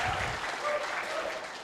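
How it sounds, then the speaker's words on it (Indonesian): Supporters at a public debate for regency candidates clap steadily in a brief, continuous burst of crowd applause. "Boleh tepuk tangan."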